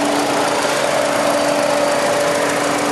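A 2007 Mini Cooper six-speed with its naturally aspirated 1.6-liter four-cylinder runs at a steady idle, a close, even mechanical hum with a faint whine that holds without change and no voices.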